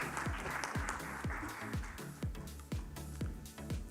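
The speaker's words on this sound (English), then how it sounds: "A round of applause." Applause from an audience at a science awards ceremony, steady clapping with distinct sharp claps standing out, fairly faint and continuous without talk.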